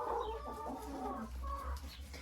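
Mixed-breed hens, Adler Silver and crested crosses, cluck in a steady run of soft, overlapping calls at close range, with a low constant hum underneath and no talking.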